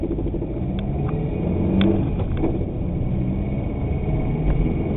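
A 2.2-liter Chevrolet Cavalier engine with a spun bearing accelerates from a standstill, a steady loud rumbling drone with rough mechanical roughness throughout and no talking.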